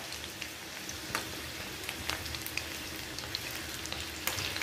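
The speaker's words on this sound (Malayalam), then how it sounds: "മീഡിയം ഫ്ലെയിം വേണം ഇത് വറുത്തെടുക്കാൻ." Chilli chicken fries in hot oil over a medium flame, giving a steady close sizzle with scattered sharp crackles and pops throughout, and no talk.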